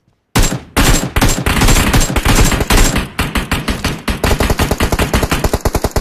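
Rapid automatic gunfire from a video game firefight, loud and close, with sustained bursts rattling almost continuously and sharp individual shots toward the end, with no talking over it.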